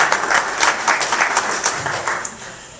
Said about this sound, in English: give yourselves a round of applause, the Homer Lockport Tea Party organization